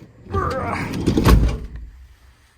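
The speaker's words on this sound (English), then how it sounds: "let me close the door here" The door of a 2023 Ford Transit camper van closes with a short rolling slide ending in a single solid thud, heard up close.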